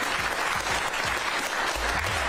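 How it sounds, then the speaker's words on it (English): An audience claps in a steady, dense burst of applause that holds at an even level throughout, with no voices standing out. "That round of applause is just disturbing."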